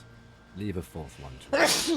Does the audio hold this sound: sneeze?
yes